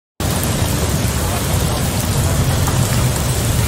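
Heavy rain pouring steadily during a class trip, a loud, dense, continuous hiss that starts abruptly and holds constant with no pauses, close and enveloping.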